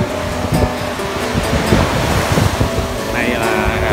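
Sea surf rolling in at An Bang beach in Hoi An, Quang Nam, Vietnam: a steady, loud roar of breaking waves mixed with heavy wind buffeting the microphone, continuous throughout.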